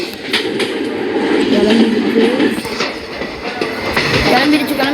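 A train pulling away, its wheels clattering over rail joints with a low rumble and occasional squeals, loud and close, with faint voices in the background.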